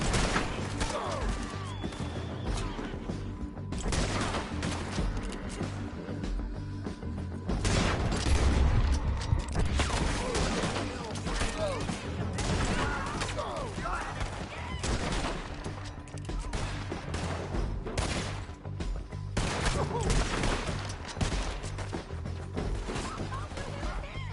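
A Red Dead Redemption 2 shootout brings dense, continuous gunfire: overlapping volleys of sharp shots and bursts crackle near and loud without letup, with occasional crashes amid the chaos.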